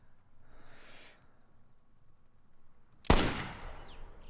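A single loud 6.5 rifle shot rings out at an ibex in theHunter 2018, a sharp crack with a decaying tail after a stretch of quiet outdoor ambience.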